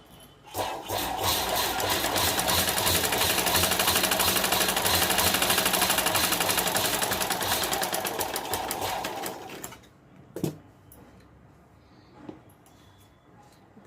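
Home sewing machine stitching cloth for a small homemade purse: a fast, even mechanical whirr runs for about nine seconds, then stops, followed by a few faint clicks and handling noises.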